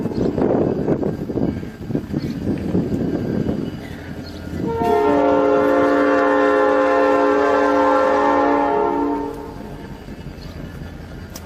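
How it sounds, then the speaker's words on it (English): A train passes close by, its horn sounding one long, loud sustained multi-tone blast for about four seconds over the rumble of the rail cars, then fading back to rolling noise. "We should have stopped the train."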